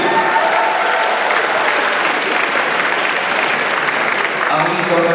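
A crowd at a university student forum in Malaysia applauds the program organiser, a loud, sustained, even roar of clapping throughout.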